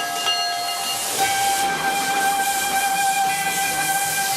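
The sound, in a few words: steam locomotive (Maria Fumaça) whistle and hiss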